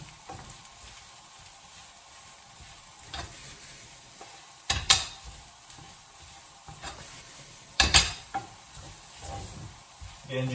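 Turkey mince and rice being stir-fried in a pan: a quiet, steady sizzle with occasional scraping and clattering stirs, two sharper bursts of utensil against pan standing out.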